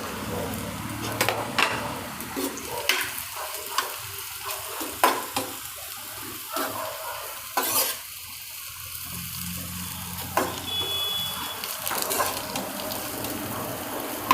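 Thepla pieces fry on low heat in a pan, with a soft continuous sizzle broken by repeated scraping clacks of a spoon stirring them, close by and with no voices.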